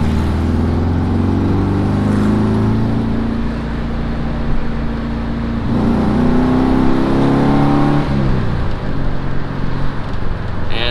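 Catfish-generation Chevrolet Camaro revving nearby on the road, a loud, continuous engine drone with rising and falling pitch, heard from inside a car amid road noise.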